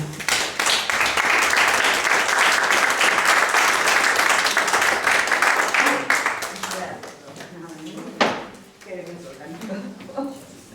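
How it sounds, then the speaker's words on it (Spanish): A conference audience applauds a speaker at a human-integration symposium in Ourense, loud and steady clapping for about six seconds that thins out and fades, followed by a few scattered claps, shuffling and a clunk. "Vamos a recibirla con un fuerte aplauso."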